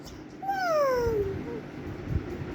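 A domestic cat lets out one clear, drawn-out meow that slides downward in pitch, heard close and alone over a faint background hum.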